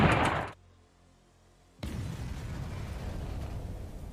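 A Ukrainian artillery shell bursts on a Russian tank in a loud, sharp explosion that cuts off abruptly, followed by a brief near-silence and then a steady rumbling roar.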